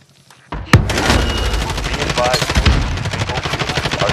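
Rapid automatic gunfire from a KRIG 6 rifle in a Call of Duty Warzone match, a sharp shot followed by sustained fast bursts, loud and close in the game mix.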